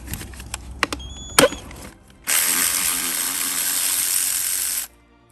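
A power tool whirs steadily for a few seconds, close and loud, while nuts are removed from a NICE ME3000 or ME3100 electric gate motor, following a few light metallic clicks and knocks.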